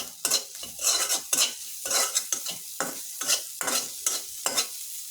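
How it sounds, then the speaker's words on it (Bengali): Dried fish frying in oil with ground onion, garlic and green chili paste, a spoon scraping and stirring the pan in quick repeated strokes over a constant sizzle, close and clear. "শুটকিটা পেঁয়াজ, রসুন, কাঁচামরিচ তেল দিয়ে ভেজে নিতেছি ভালো করে"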